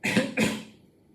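Two quick, sharp coughs close to the microphone, one right after the other, then a fading breath.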